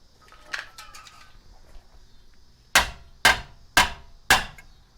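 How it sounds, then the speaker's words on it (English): Four sharp metal-on-metal hammer blows land on a seized suspension part of a high-mileage car during an AirLift air suspension install, struck at a steady pace after a few quieter clanks. "just hammer it"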